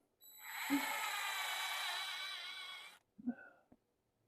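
A power drill whines steadily for about three seconds, then stops, followed by two brief, quieter bursts, its bit wandering across the surface.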